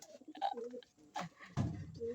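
Soft, low pigeon coos from a homing pigeon come in short rolling phrases close by, mixed with a person's voice speaking quietly.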